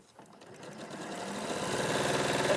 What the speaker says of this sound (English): so you only sew the one corner on first